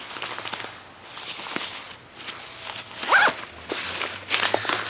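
A zipper on a Deuter ACT Trail 32 backpack is pulled in several short, scratchy strokes, close by, with faint rustling of fabric between pulls.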